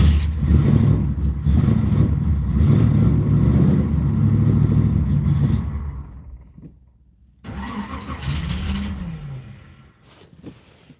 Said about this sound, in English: So let's go ahead and start it up, see if I can actually get it going.